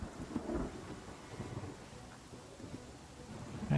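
Steady rain ambience with low rolling thunder rumbles from the fantasy video game Pathfinder: Kingmaker, a continuous stormy wash heard alone without any voices over it.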